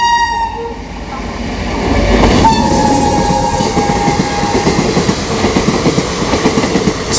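The Sealdah–Malda Town–Balurghat Gour Express runs past loudly and close, a sustained horn sounding early before the steady rhythmic clatter of wheels over rail joints takes over.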